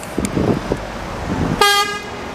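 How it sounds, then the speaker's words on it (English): A short honk from a bus horn sounds over rumbling street traffic in Plymouth, a single brief blast. "Did he just beep at me?"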